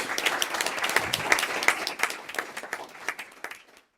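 A school committee meeting audience claps for History Bowl champions, a brisk round of many hands that thins into scattered individual claps and fades out near the end.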